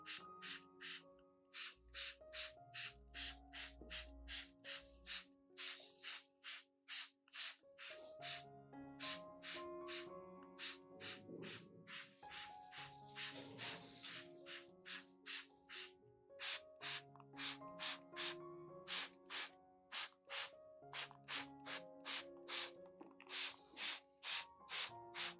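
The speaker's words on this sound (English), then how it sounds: "Be sure to spray both the upper and lower surfaces of the leaves so the solution penetrates deeply and evenly" Repeated short bursts of a hand sprayer misting solution onto orchid leaves, a steady rhythm of quick hissing puffs over soft background music, close and clear with no talking.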